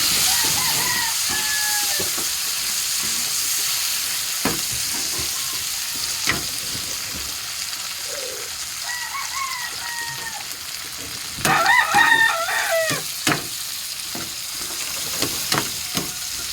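Tomatoes softening in a pan of hot oil and butter give off a loud, steady sizzle with occasional clinks and a brief swell of crackling, and faint chirping sounds come and go in the background.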